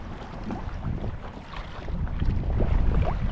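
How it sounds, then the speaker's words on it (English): Wind gusts across a microphone on the Seven Mile Bridge over open water, a steady low roar that grows louder toward the end, with no voices. "wind's picking up."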